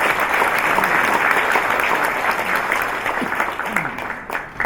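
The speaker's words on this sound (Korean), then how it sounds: "여러분 좀 박수를 부탁드리겠습니다." Guests applaud at the inauguration ceremony of Lee Jong-chan as 23rd president of the Korea Liberation Association, a loud, dense round of clapping from a large hall crowd that thins out and fades near the end.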